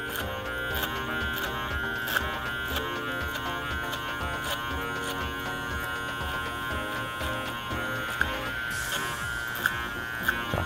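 An electric hair clipper fitted with a 9mm guard buzzes steadily while trimming the sides of a short haircut, its hum continuous and close with small clicks and shifts as it moves through the hair.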